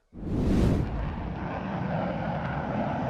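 An airplane roars in loudly with a broad rumbling burst that settles into a steady, sustained engine drone, close and continuous with no talking.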